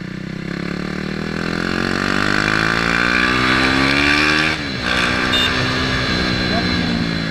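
A KTM RC390 motorcycle engine runs loud and close, its tone climbing smoothly as it revs up, holding high, then dropping briefly before it continues droning steadily.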